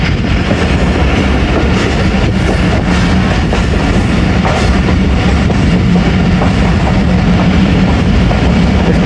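Tezgam Express train running through Shahdarabad Junction on the Rawalpindi to Lahore line, a loud continuous rumble with rhythmic clickety-clack of wheels over rail joints, heard close from on board.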